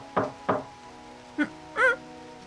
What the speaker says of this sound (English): Suddenly the sound of a knock echoed throughout my room, making me cower.